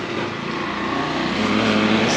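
A rented motor scooter's small engine buzzes steadily and rises slightly in pitch as it pulls away, close and loud with no talking.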